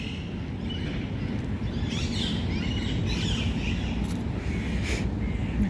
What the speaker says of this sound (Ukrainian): Птахи кричать з самого ранку.